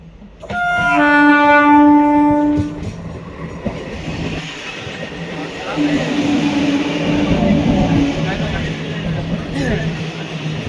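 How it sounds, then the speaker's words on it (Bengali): A train's horn blares briefly, then a steady rumble of rolling carriages and clatter builds as the train pulls into Memari station, with voices nearby. "ট্রেন ঢুকে গেছে ওই যে"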